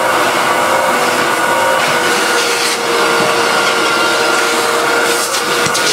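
A vacuum cleaner with an upholstery nozzle attachment drones loudly and steadily up close, its airflow shifting slightly as the nozzle moves, with no talk.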